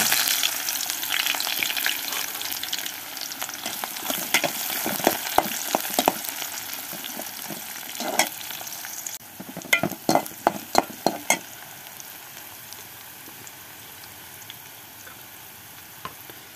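Onions fry in a pan for a gizzard and liver curry, producing a steady, close hiss of sizzling oil punctuated by clicking stirring strokes, louder early on and settling to a calmer crackle.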